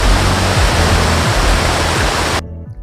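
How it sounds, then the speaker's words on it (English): An ULALOV EL-C1 electric pour-over kettle boiling water gives a loud, steady rushing roar that cuts off abruptly near the end, leaving near silence, with no talking. "There's the boiling water."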